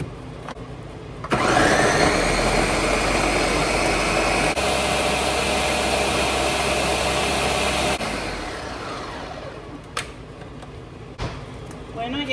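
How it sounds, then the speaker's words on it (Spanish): A blender grinding chili salsa with cumin and powdered chicken bouillon for red chicken pozole, a loud steady whir that shifts pitch midway, then stops, followed by quiet kitchen clatter. "Ahora voy a tapar y a moler."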